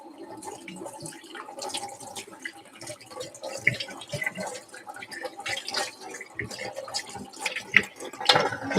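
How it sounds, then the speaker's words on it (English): Running water rinses a dirty espresso machine part in a sink after chemical cleaning, a steady splashing wash with scattered drips and louder bursts toward the end. "rinse it off."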